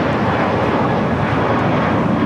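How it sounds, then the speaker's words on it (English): A Spirit Airlines Airbus A319 takes off at LAX bound for Houston Intercontinental. Its engines give a loud, steady, broadband roar for a couple of seconds. "This is Spirit Airlines 591 taking off to Houston Intercontinental on an A319"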